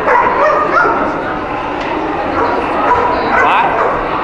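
A dog at a pet blessing service yips and whimpers in loud, repeated bursts, close by, with a busy crowd and voices mixed underneath.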